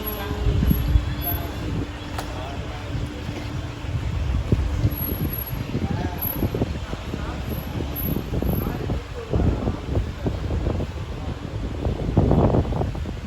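Wind blows across a small Indian coastal village, rumbling and buffeting the microphone in uneven gusts that swell and ease throughout, loud and low, with a faint hiss above.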